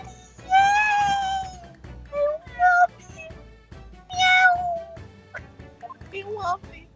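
A cat meows several times in a video game, clear, high and close, the cries spaced out with a short pause between calls and no talk over them.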